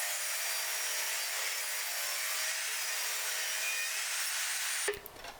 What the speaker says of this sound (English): I cut it to size with the table saw, then to length with the miter saw.